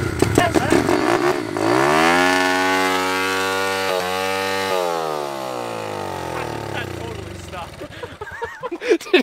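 A kick-started motorcycle engine with a stuck throttle bursts to life and holds a loud, high, climbing rev for several seconds, then winds down as people talk nearby.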